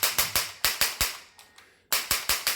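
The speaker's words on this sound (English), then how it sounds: "so you can hear a recoil in the gun" Aimtrak light gun recoil solenoid firing while playing Area 51 Maximum Force on a Megacade home arcade cabinet: a rapid series of sharp mechanical clacks in bursts, pausing briefly before another quick volley, close and loud.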